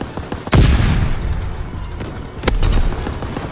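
Gunfire in the WWII shooter Call of Duty WW2: two loud, sharp booming shots about two seconds apart stand out over a constant backdrop of scattered battle fire.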